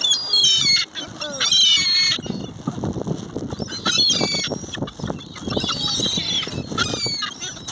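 Swans honking and squawking at close range while being fed outdoors, with harsh calls repeating through the scene over rustling and scuffling, and a person talking now and then.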